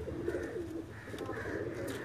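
Lakha pigeons coo in a low, rolling rhythm of repeated throaty calls, close and steady, with a faint higher chirp now and then in the background.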